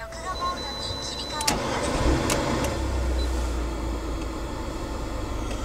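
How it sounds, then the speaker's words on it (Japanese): An Abarth 500 engine cranks and starts, then settles into a steady low idle rumble, with people talking over it. "エンジンかけますね"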